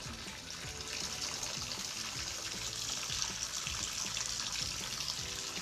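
Tap water from a Delta faucet runs steadily, turned to hot, with a continuous bright hiss and splash close by and no talk.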